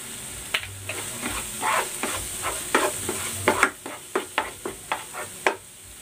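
Chicken curry sizzles steadily in a pan as curry powder is stirred in, with a run of repeated scraping stir strokes that grow sharper and more rhythmic toward the end, close and with no talking.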